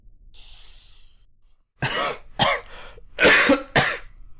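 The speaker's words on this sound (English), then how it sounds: "Don't mind the coughing." A short hiss, then a series of four or five harsh coughs close to the microphone, loud and irregularly spaced.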